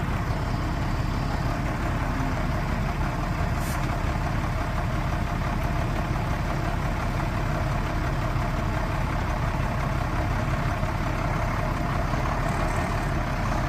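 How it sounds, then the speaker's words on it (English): A 1994 International S2500 truck engine running smoothly, a steady close diesel-like rumble throughout with no breaks, alone without talk. "Runs good and smooth."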